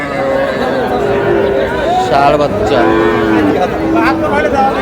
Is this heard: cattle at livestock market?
yes